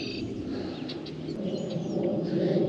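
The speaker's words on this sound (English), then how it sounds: "Whenever I hear those birds that make that noise, I know we're getting close" Birds call near a crappie fishing spot, faint scattered chirps and cooing-like notes over a steady low outdoor rumble, with no one talking.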